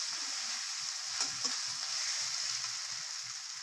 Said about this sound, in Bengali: এখন আমি একসাথে মিক্স করে দেবো, ভালোভাবে একটু নাড়াচাড়া করে দেবো।